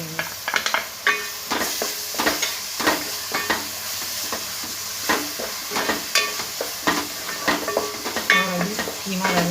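Spices and ginger sizzle and hiss in a hot pan for keema masoor biryani while a spoon stirs them with repeated scraping clatters. The sounds are close and steady.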